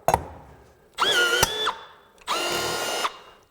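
Milwaukee M18 FUEL 1/4-inch cordless blind rivet tool sets steel rivets in two loud, close motor whirs of about a second each, with a sharp snap of the mandrel breaking between them.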